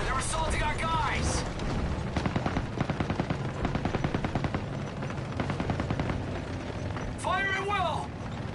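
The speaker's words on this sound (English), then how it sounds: "Small arms fire!" Rapid small-arms gunfire from a Call of Duty WW2 battle, with dense bursts of automatic fire running through the scene under loud shouted voices and mixed combat noise.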